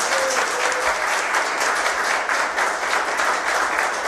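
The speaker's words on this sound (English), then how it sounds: "Round of applause for her, please." An audience at a 2008 Roselle 1st Ward council debate claps steadily, a dense, even wash of applause that holds at a moderate level for about four seconds without pause.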